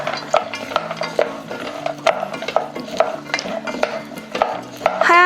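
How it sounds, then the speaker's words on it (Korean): Roasted almonds tumbled through thickening sugar syrup with a wooden spatula in a pot, giving a close, steady run of scraping, clacking stirs with sharp knocks against the pan and no talking. "하얀색 설탕 결정이 생길 때까지 잘 저어주세요."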